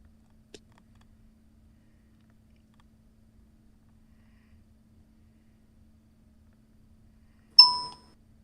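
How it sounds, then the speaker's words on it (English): A phone notification ding rings out once near the end, a single bright chime with a short decaying tail, loud and close after near-silence. "my phone giving me a notification"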